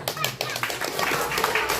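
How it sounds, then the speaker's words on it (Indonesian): Several children clapping together in a school hall during an Isra' Mi'raj religious gathering, a steady patter of hands with a busy, noisy room behind it. "Tepuk tangan."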